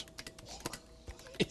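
Quick, light keystrokes tap on a computer keyboard, several soft clicks at irregular intervals with one sharper press near the end, close and quiet against a faint hum.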